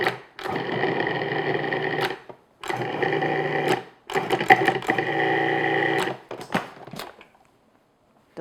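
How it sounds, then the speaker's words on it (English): A food processor blends flour and butter into coarse crumbs for an apple custard tart. It runs in three loud, steady bursts with short pauses between them, followed by a few brief clatters, and nobody speaks. "I'm going to do is just process this until we have coarse crumbs"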